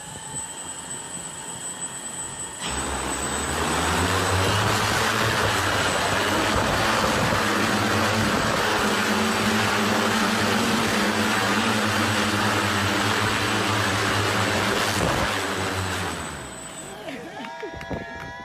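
A homemade helicopter engine built in Kenya roars into life on its first test run, a loud steady mechanical drone with a high whine that holds for about twelve seconds before cutting off.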